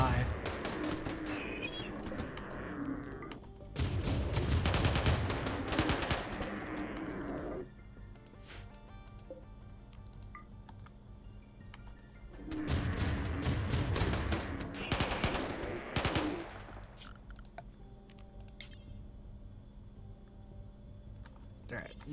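Automated turrets in Rimworld fire long, dense bursts of gunfire twice, each lasting several seconds, with a steady background hum between them.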